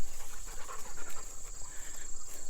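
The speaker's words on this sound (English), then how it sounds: "So if you don't know, these are Weimaraners." Weimaraner dogs pant close by, a quick rhythmic run of breathy puffs over a steady high insect-like whine in the background.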